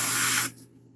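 An airbrush sprays paint onto a quarter-scale Samurai Wolverine figure in a steady, close hiss that cuts off abruptly halfway through, leaving a faint low hum.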